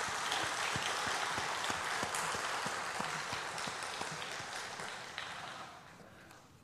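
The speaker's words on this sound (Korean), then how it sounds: "우리 박수 한번 보내드립시다" Applause in a church during a Holy Week Wednesday service for a deacon's performance of a hymn, steady dense clapping from a congregation that holds throughout and fades slightly toward the end.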